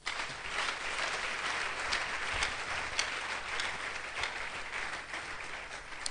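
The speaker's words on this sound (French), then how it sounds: "Acclamons le Seigneur" Continuous applause from a church congregation acclaiming the Lord, a dense, steady wash of many hands clapping at moderate distance, somewhat faint and sustained with scattered sharper claps.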